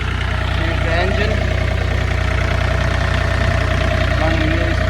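A Chinese CAEL 4-ton mini excavator's engine idles steadily and loudly close by, a constant low throbbing drone with no change in pace.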